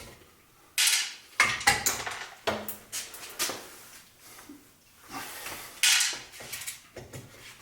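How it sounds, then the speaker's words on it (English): Removed screws from a Motorguide trolling motor are dropped and clink in irregular small metallic taps and rattles, close by, in a quiet room. "Dropping our screws that we"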